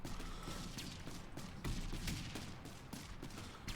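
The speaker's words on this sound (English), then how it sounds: "still managing to get those shots away, still managing to get those missiles off" Missile salvos launch in a TerraTech naval battle, a rapid run of sharp whooshing blasts and thuds fired in quick succession over continuous rumbling noise, fairly quiet overall.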